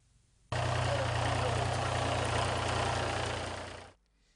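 A tractor engine runs steadily at close range with a deep, constant rumble, starting abruptly and then cutting off after a few seconds.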